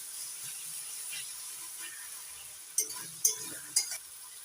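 Tomato masala with grated tomato fried and stirred in a pan, giving a steady soft sizzle with a few sharper scraping or clinking stir strokes near the end.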